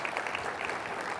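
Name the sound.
audience applause for subcommittee members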